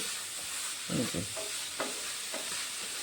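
Thickening milk for kalakand being stirred in a pan, a faint background hiss with a few soft scraping strokes of a spoon, close and quiet, with no talk.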